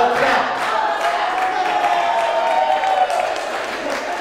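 Wedding guests at Leonard's Palazzo in Great Neck applaud and cheer after the couple's kiss, a dense, loud, continuous wash of clapping mixed with whoops from the crowd.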